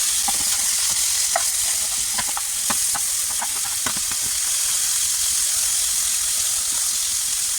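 Cheesesteak beef sizzles loudly in a pan after being flipped, a constant hiss with scattered pops and crackles, plus a few scrapes and taps from stirring early on.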